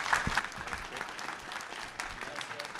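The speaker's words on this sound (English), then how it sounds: "big round of applause for our proxy panel." Audience applause at a proxy technology conference panel, a crowd clapping steadily for close to three seconds with a voice speaking briefly over the start.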